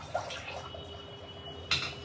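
Water poured into a large tin container to soak semolina, a brief hollow splashing rush near the microphone with a second short gush near the end, no voices.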